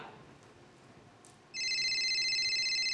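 A telephone call rings out after a quiet moment, a steady electronic ringing tone that starts abruptly and continues loud and close.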